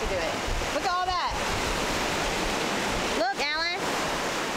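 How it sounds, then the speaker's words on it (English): Ocean water washing against rocks on a beach, a steady broadband rush of surf throughout, with two short bursts of someone talking over it. "the water is pushing on the rock"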